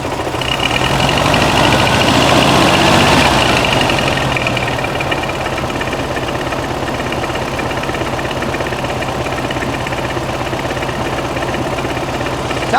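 A 1969 VW Beetle's air-cooled 1600cc engine with dual 34 carburetors revs briefly, then settles into a loud, steady idle with a rhythmic low throb that carries on without talking.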